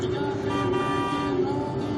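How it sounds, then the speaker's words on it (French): A car horn sounds in a long sustained honk, close and steady, over low traffic rumble. "Accélère, ça klaxonne derrière."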